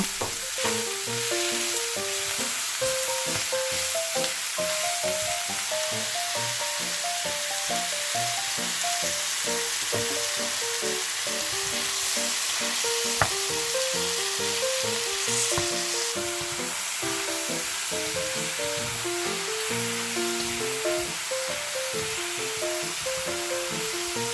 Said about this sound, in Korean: 소고기 간고기를 넣어서 역시나 센 불에서 살짝만 볶아주세요